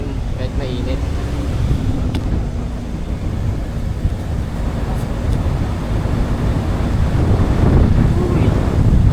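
Steady wind rushes and buffets across the microphone throughout, with a constant low roar and no clear pauses.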